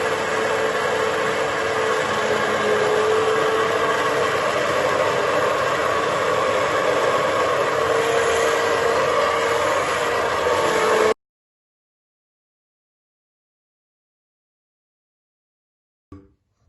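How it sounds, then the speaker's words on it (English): A blender blitzing cooked pea soup gives a steady, loud whirring roar for about eleven seconds, then cuts off abruptly into silence. "Now I'm going to blitz it and serve it."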